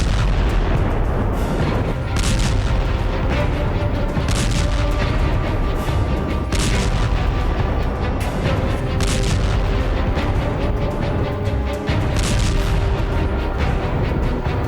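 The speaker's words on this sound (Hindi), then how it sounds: "अजरबैजान के अंधाधुंध हवाई हमलों के ये खौफनाक वीडियो देखिए।" Repeated explosions from Azerbaijani air strikes on Armenian forces, heavy booms and artillery-like blasts landing in a dense, continuous barrage that stays loud throughout.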